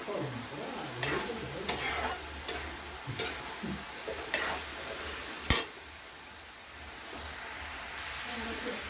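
Grated coconut and three or four cracked cardamom pods frying in a pan for Bengali puli pitha filling, with a steady soft sizzle broken by several sharp clacks of a spoon scraping and stirring, one louder knock near the end.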